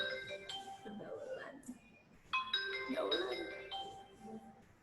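A phone ringtone going off during an online class, a faint tonal melody of repeated notes in two bursts, with a person talking and background voices over it.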